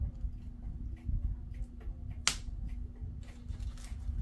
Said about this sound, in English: I want you to hear how it sounds as the bubble wrap is popping